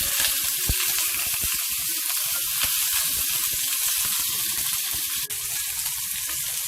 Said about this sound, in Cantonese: 煎一煎呢個排骨